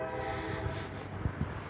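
A train rumbles past with a steady low drone and a sustained horn note, a couple of clanking knocks near the end.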